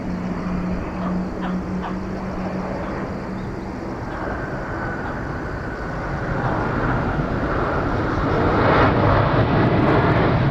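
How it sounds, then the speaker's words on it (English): A Singapore Airlines Airbus A350-900 comes in to land at Incheon, its jet engine rumble swelling steadily from a distant hum to a loud close roar with no talking. "Singapore Flight 612 coming in from Singapore, an A350-900"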